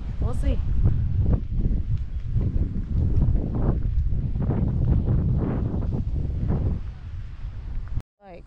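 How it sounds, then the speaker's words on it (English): Wind buffets the microphone with a low, rumbling roar that comes and goes in gusts for several seconds. "It's kinda windy."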